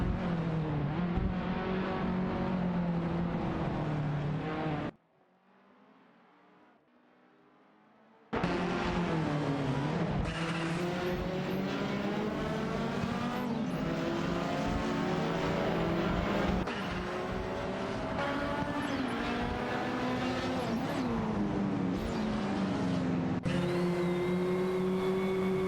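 Race cars in an AI racing video game roar and rev continuously, engine notes rising and shifting as cars overtake one another, with a brief quieter gap partway through before the loud pack sound resumes.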